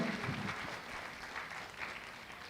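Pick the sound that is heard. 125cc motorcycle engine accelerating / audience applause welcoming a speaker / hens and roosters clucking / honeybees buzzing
audience applause welcoming a speaker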